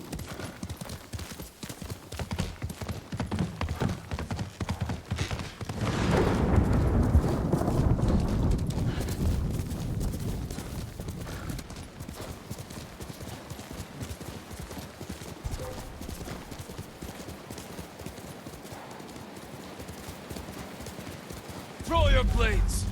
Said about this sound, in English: travel by horse over there from here